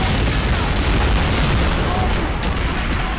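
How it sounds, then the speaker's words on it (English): Mortar explosions from the Men of War Assault Squad 2 battle game boom continuously in a dense, loud wall of rumbling blasts and bursts, with no clear gaps between impacts. "those mortars are doing a lot of damage"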